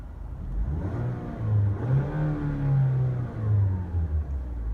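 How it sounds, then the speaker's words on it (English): A car engine with a manual gearbox revs up close and loud, climbing and falling in pitch a few times before settling back toward idle. "Give it a quick little rev here."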